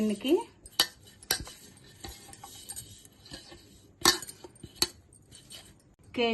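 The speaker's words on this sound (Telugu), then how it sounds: "మనం కేక్ గిన్నె తీసుకుని 1 స్పూను ఆయిల్ వేసి చుట్టూ ఇలా రాసుకోవాలి" A spoon spreading oil around a metal cake tin for an eggless rava cake, giving sharp, scattered metallic clinks and scrapes close up, with long quiet gaps between them.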